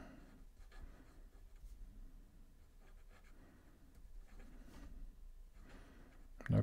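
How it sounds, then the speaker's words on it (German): A Visconti Breeze fountain pen nib scratches across paper while held upside down, producing faint soft scraping strokes in irregular short bursts, close and quiet, with no talk. "Dann schreiben wir mal verkehrt rum."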